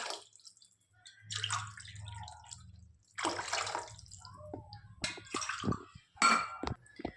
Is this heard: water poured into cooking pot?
yes